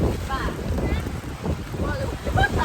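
Strong seaside wind buffets the microphone with a constant rumbling roar, while faint voices are heard underneath.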